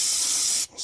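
Aerosol spray can hissing into the engine of a 1977 Dodge motor home, a loud continuous close spray that cuts off briefly and starts again for a short burst.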